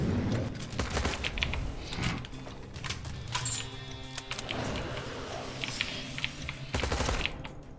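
Heavy bullets fire in a video game in a dense, continuous barrage of loud shots, with rapid bursts and booming impacts layered over steady in-game background noise.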